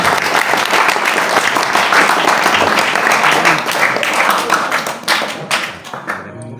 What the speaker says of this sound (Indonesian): Jadi tepuk tangan dulu untuk Mas Raditya Wisnu.